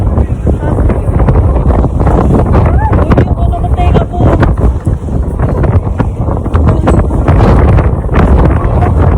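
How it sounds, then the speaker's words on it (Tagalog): Strong wind buffets the microphone in loud, continuous gusts at Tokyo Disneyland, with a person talking over the roar. "Grabe nanunulak yung hangin."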